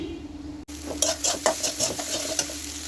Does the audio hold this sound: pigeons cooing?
no